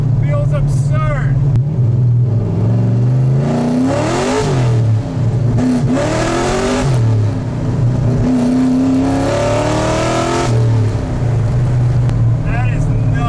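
An LS3-swapped Miata fitted with longtube headers and a titanium exhaust revs and accelerates hard, its loud V8 roar rising through several sweeping pulls. A person talks excitedly underneath throughout.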